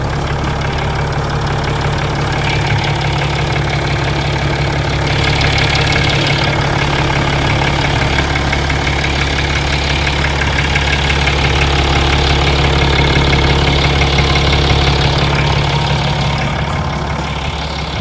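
A Mercedes-Benz ML350 BlueTEC 4MATIC diesel engine idles steadily with the hood open for an engine bay check, a close, continuous low rumble with a faint ticking texture and no speech.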